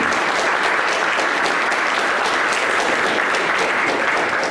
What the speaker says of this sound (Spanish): quiero darle las gracias a dos personas que les pediría un aplauso, a Kelly y a Patrick